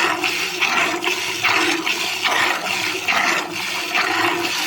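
Water is poured over a buffalo as it is washed in a village yard, a loud, close, continuous gushing rush that surges in repeated waves for several seconds, with no voices.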